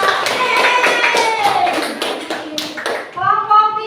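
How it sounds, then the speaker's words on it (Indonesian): Students in a classroom clap their hands for a classmate, a brisk run of close, sharp claps, with a voice speaking near the end as the clapping fades. "Tepuk tangan buat Dika."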